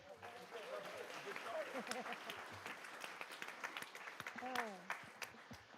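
Applause from the audience at a school board meeting honoring a student athlete, a dense continuous clapping that fills the room while voices and cheers rise over it.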